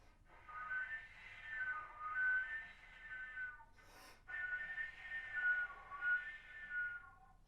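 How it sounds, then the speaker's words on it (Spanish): A thin, high whistle-tone harmonic sounding two octaves up holds steady in two long phrases, broken by a brief breathy gap, with no talking. "son un armónico con un silbido y en este caso está sonando 2 octavas arriba"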